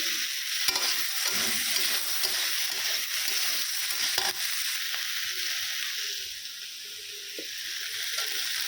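Paneer fries in a pan with a bright, steady hiss while a utensil stirs and scrapes through it, close up, with the sizzle easing slightly toward the end and no talking.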